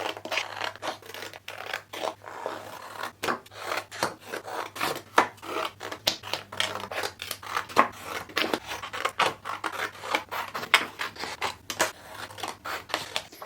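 Scissors cutting coloured card into small squares, a quick series of crisp snips and papery rustles close up, repeating steadily with short pauses and no talking.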